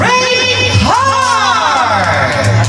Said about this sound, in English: A round of applause as we welcome our debutant